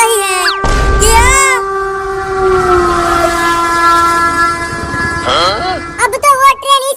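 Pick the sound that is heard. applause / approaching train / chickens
approaching train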